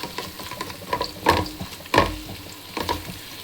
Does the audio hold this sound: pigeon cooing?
no